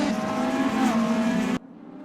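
A Mercedes AMG race car in an eRacing video game screams at high revs, then its engine note dips as the car brakes, before the sound cuts off abruptly into near silence.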